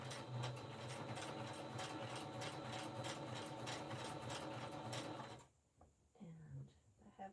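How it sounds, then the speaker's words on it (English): A sewing machine running a zigzag stitch through fabric and batting for a puffy journal cover, a steady close mechanical whir with rapid needle rhythm for about five seconds, then stopping into quieter handling and a faint voice. "And I'm doing the zigzag stitch."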